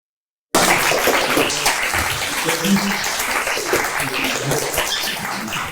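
Loud, continuous applause from a bar audience at an improv comedy show starts abruptly after a short silence and keeps going steadily to the end.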